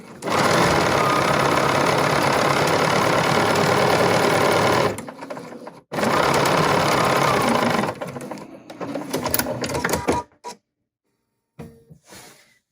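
A BERNINA sewing machine with Edgestitch Foot #10 stitches in a fast, even rattle, running steadily for about five seconds, pausing briefly, then resuming more unevenly before stopping, with a few light clicks after.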